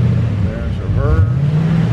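A 1987 Chevrolet Corvette engine idles steadily in reverse gear, a low continuous rumble with a slight rise in pitch partway through, close to the microphone with the interior ambience around it.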